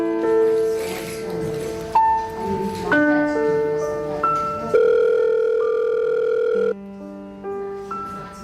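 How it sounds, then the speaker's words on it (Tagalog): An electronic phone ringtone plays a stepped melody of steady tones, loud and close, with no voices over it. "sagutin mo na ang phone"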